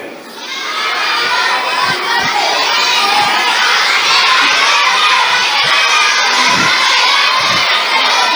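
A crowd at a school alumni day event cheers, shouts and claps in a loud, sustained swell that builds within the first second and keeps going.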